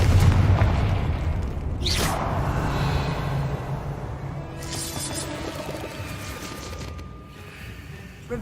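Confringo fire spell explosion in the video game Hogwarts Legacy, a deep booming blast followed by rumbling, crackling debris, then a second burst, loud and close amid game ambience.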